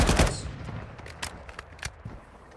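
Gunfire in Warzone Mobile comes as a quick burst of rapid shots up front, then scattered single cracks at a moderate distance, fairly quiet overall.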